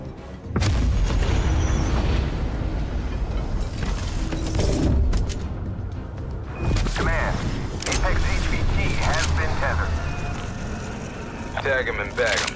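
Heavy strike firing and explosions in the video game Call of Duty: Black Ops Cold War, loud repeated booming blasts and rumbling bursts with mechanical clatter, continuous over twelve seconds with brief sharper impacts.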